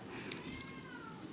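A cat meows in a council meeting room, a faint thin cry rising over steady room noise and murmuring, brief and distant.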